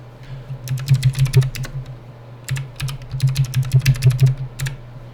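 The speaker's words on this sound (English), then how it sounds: "We'll go ahead and click enter to bring up our interface for our router." Fast typing on a computer keyboard in two bursts of rapid clicky keystrokes with a short pause between, close and fairly loud over a low hum, ending with the enter key pressed to open a Netgear router's setup page; no voices.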